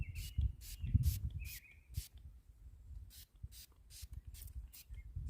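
Short hissing spray bursts of liquid onto the headlight of a 1994 GMC Sierra during restoration, a rhythmic series of quick pumps with brief gaps, close, over low handling noise and faint outdoor birds.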